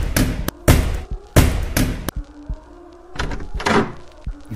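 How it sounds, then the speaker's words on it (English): A creaking door swings open with a low rumble, giving a few loud, close thumps and knocks spread across the clip, with a hollow hum sustained between them in a quiet room. "The door opened with the rumble, but there was nobody behind."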